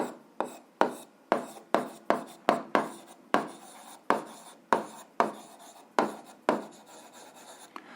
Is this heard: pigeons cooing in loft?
no